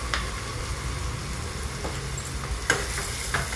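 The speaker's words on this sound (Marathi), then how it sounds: "म्हणजे कांदा लवकर जरा फ्राय होईल।" Chopped onion with salt sizzles in a pan for restaurant-style paneer bhurji: a steady, soft hiss with a few brief clinks of a utensil near the end.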